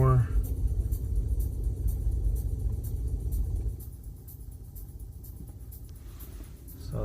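A car drives along a regular public road at night, its engine and tyre rumble steady and close, easing slightly halfway through, while a person talks over it.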